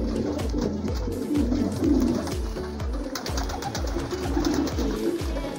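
A flock of pigeons coos steadily while feeding, overlapping throaty calls in a continuous close chorus with no one talking.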